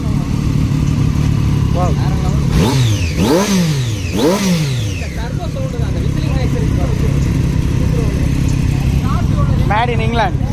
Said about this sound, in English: So this also Daytona 675R, but different exhaust.